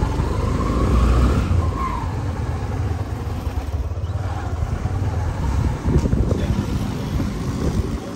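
A motorbike rides along on a rainy day, its engine rumbling low and steady under heavy wind buffeting the microphone, with no talking.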